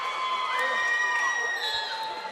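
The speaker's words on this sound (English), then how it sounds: "Family cheering her on, front row right there." Family and crowd cheering at a high school girls' state wrestling tournament, a steady wash of shouts and whoops from a close, noisy arena audience.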